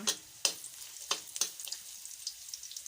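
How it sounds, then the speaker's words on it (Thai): Chopped garlic sizzles and crackles as it fries in hot oil for a Thai stir-fry of luffa gourd with pork belly, with sharp spatters and stirring scrapes at close range. "แล้วเราก็จะมาเจียวกระเทียมใส่แบบนี้จ้า ใส่กระเทียมเจียวให้หอมหอม"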